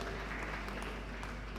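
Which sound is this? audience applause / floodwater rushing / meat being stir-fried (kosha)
audience applause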